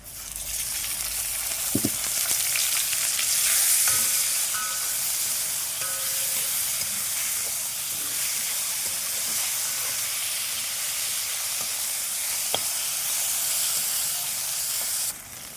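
Tomatoes and garlic sauté in a pan for Kerala-style chicken perattu, a loud, continuous steamy hiss and sizzle with occasional spatula knocks and scrapes, close up and steady for the whole stretch.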